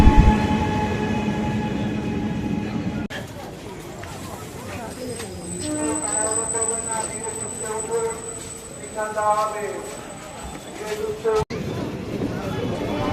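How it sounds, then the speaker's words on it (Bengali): The Ganadevata Express pulls into a station platform in the early morning with a loud, near rumble of wheels and carriages. A steady rhythmic clatter and squealing tones follow, then a sharp cut at the end. "প্ল্যাটফর্মে এসে পৌঁছালো গণদেবতা এক্সপ্রেস তার নির্ধারিত সময় থেকে 22 মিনিট দেরিতে।"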